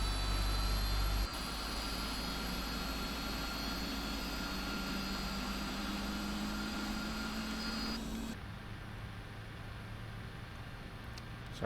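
A Boeing 747-400 jet engine in the Prepar3D flight simulator spins up as a loud, steady whine over a deep roar with a slowly rising tone, then drops to a quieter hum near the end.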